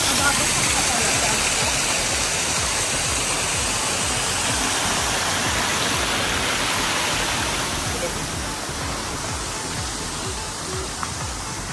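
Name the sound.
small waterfall along the trail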